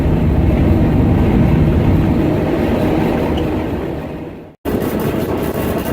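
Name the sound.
train passing on railway track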